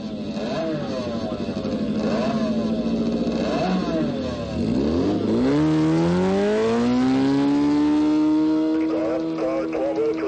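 A hot rod roadster engine on a dry lake bed blips and revs several times, then climbs into one long, loud rising pull that holds near and steady to the end.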